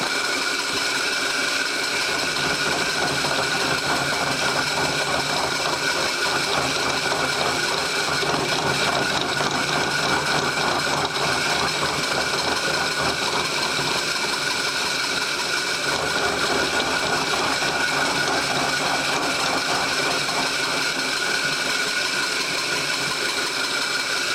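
A metal lathe runs continuously while trimming a part for a steady rest build, giving off a loud, even mechanical whir with a fine rattling texture throughout and no voices.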